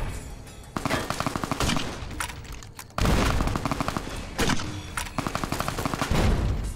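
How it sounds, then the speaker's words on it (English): A video game turret fires sustained bursts of rapid automatic gunfire, loud and close, with a brief pause before a second long volley of hammering shots. "Oh, it's a turret."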